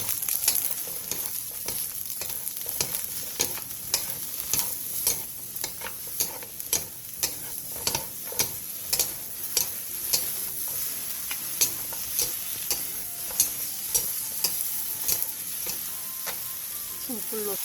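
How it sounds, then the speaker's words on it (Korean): Eggplant stir-fried in an oiled pan gives a steady sizzle, punctuated by regular sharp clicks and scrapes of a utensil stirring against the pan, close and continuous throughout. "팬에 기름을 두른 뒤 가지를 넣고 1분 정도 볶다가 중약불로 줄여"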